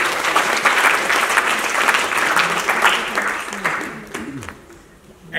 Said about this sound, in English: It's a big round of applause to UNFPA.